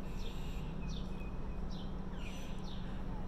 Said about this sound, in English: Do you hear the beautiful birds singing?